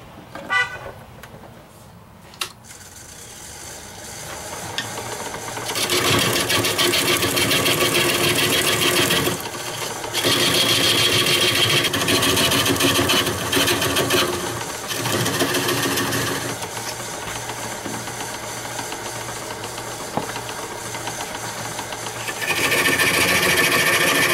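Wood lathe turning a winged myrtle wood bowl, a loud continuous whirring and rough cutting noise that swells in steady sustained passes after a quieter start, with brief dips between cuts; no talk.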